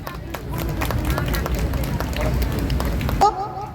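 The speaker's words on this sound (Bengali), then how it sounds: "সকলে একটু জোরে হাততালি হয়ে যাক" An audience at an Independence Day flag ceremony applauds as a guest is honoured with the national flag, a dense run of claps over crowd murmur that stops abruptly near the end.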